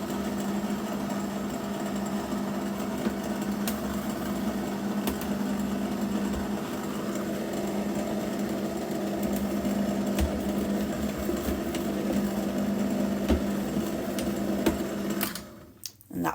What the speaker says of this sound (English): So on a very slow speed, just mix that till it's combined.